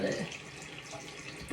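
Water is put onto fluffy hair before braiding, giving a soft, steady hiss of splashing or spraying water close by, with no pauses.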